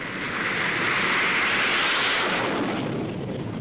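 A USAF military aircraft takes off, its jet roar a loud, steady broadband rush that swells through the middle and holds with no voices over it.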